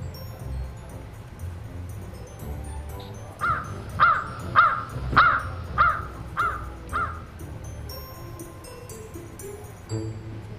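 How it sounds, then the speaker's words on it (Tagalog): A crow caws about seven times in a steady series, fairly close, over a low background hum. "Urban, ano ba yung characteristics ng isang uwak?"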